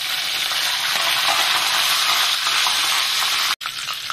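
Curry leaves sizzle in hot oil for a Kolhapuri-style milk zunka, a steady dense crackling hiss that holds throughout, with one brief drop near the end before the frying resumes.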